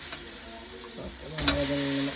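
Cleaned etta catfish head dropped into a frying pan, a brief hiss and sizzle rising midway with a light scrape of utensils, close and moderately loud.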